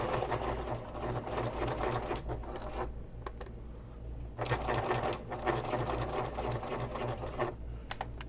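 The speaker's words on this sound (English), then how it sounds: "I'm going to sew over it, and then I'm going to sew back." A sewing machine stitches across a ring connector on a messenger bag, a steady rapid mechanical chatter running throughout with slight changes in pace and a brief lighter stretch midway.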